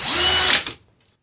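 A Dewalt DCD998B XR hammer drill whirs at high speed in one short, loud, close burst, then spins down and stops.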